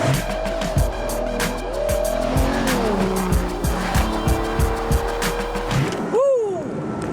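A convertible sports car drives close by with a loud, continuous engine rumble, tires squealing and skidding as it corners, and a sharp rising whine at the end.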